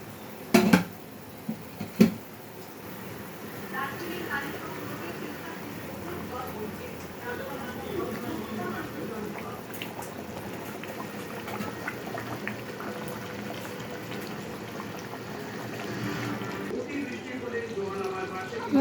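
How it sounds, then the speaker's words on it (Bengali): Fish curry broth in mustard-poppy seed gravy bubbles and boils in a pan, a soft continuous simmer with a few sharp pan clanks at the start and a voice talking over it. "ঝোলটা আমার ফুটে গেছে"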